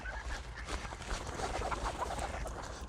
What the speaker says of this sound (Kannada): ಕೋಳಿ ಅಲ್ಲ ಇದು, ಬಾತುಕೋಳಿ